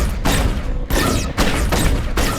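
Laser blaster shots in a home-made Star Wars Outlaws style video game, four loud, close bursts of rapid crackling fire in quick succession.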